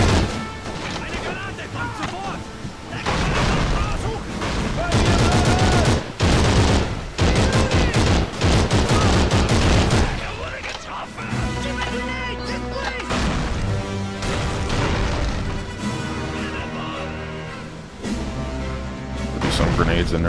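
Call of Duty 3 on PS2, with Canadian troops clearing a town: dense, loud, continuous gunfire and booming grenade blasts, later giving way to a tonal background with shouted voices mixed in.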